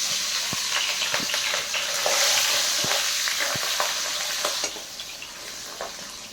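Singhi fish fries in hot oil in a home kitchen, a steady loud sizzle and hiss broken by scattered crackles and pops, with no speech.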